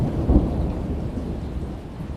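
Steady rain falls in a backyard in a dense, even hiss, with a low rumble of thunder beneath it.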